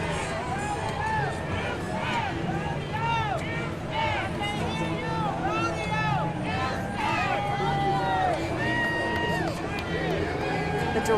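Large crowd at the Houston rodeo parade downtown, a dense babble of many voices with whoops and cheers rising throughout, while a commentator talks over it.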